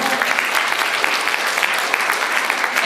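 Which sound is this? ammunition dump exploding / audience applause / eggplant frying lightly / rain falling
audience applause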